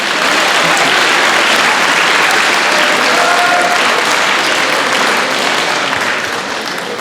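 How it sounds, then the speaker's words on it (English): A school audience at a student council election assembly gives the candidates a loud, sustained round of applause, thick continuous clapping that stays strong and then tapers slightly at the end. "let's please give the candidates one more round of applause"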